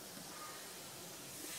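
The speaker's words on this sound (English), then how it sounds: "I like to take some spray glue and lightly spray each bowl," Spray glue lightly misted from an aerosol can onto the headliner bows of a 1926 Ford Model T Tudor, a steady close hiss lasting the whole moment with no talking.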